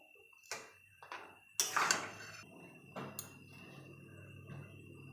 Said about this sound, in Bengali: এভাবে নাড়াচাড়া করে নেব ভালোভাবে।